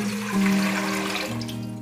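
Water from a jug poured into a cooking pot for Kashmiri chai, a steady close splashing and gurgling pour lasting a couple of seconds, with no talking.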